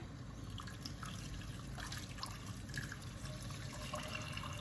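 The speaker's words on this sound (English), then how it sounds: "And I'm going to put the water." Water pours and trickles into a hot cooking pan with garlic and onion, a soft continuous splashing with faint drips over a low background hum, quiet and close.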